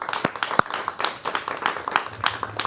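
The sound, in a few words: studio audience applause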